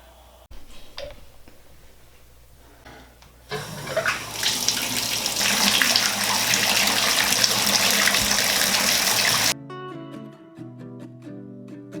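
Water gushes from a tap into a bathtub for several seconds, loud and steady, after some quiet clicking and handling, then stops and gives way to soft background music.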